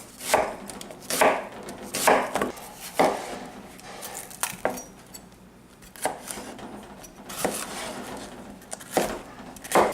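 Knife chopping red bell peppers, red onion and garlic on a board for a fermented hot sauce, a run of sharp, close, fairly loud chops in irregular bursts with brief pauses, no talking.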